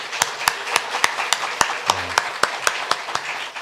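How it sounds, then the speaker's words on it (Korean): Rhythmic clapping at a church Friday prayer meeting, sharp evenly spaced claps about four per second, close and distinct, with a brief low voice partway through. "우리 격려의 박수를 좀 해주셨으면 좋겠습니다."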